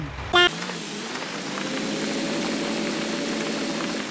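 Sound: tractor engine in Farming Simulator 19 video game

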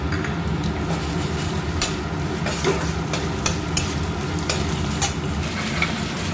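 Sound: onions frying in oil with garlic and ginger paste

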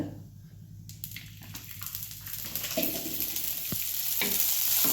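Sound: moth beans (matki) roasting in oil in a pan

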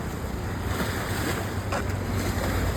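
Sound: sea waves

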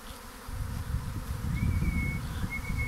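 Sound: swarm of bees buzzing

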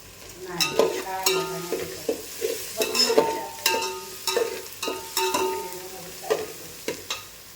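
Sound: tomato and turmeric masala frying in a pan

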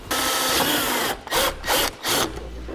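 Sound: driving self-tapping screw to mount base plate bracket

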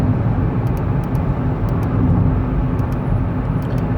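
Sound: Seat Ibiza Cupra 1.4 engine car driving

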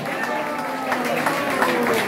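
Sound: applause for the performers

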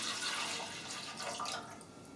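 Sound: pouring milk and water into bread maker pan

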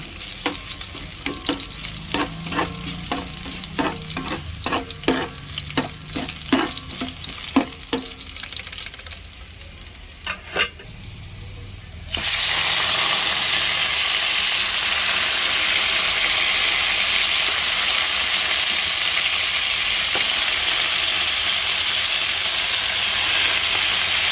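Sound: beef frying in a pan

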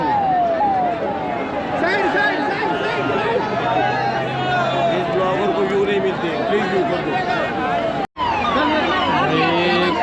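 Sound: huge crowd at the Maha Kumbh

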